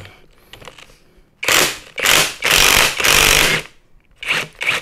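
An impact wrench loosens a bolt on a Suzuki Satria FU motorcycle engine: a loud, close burst of rapid hammering in several long pulses separated by short pauses.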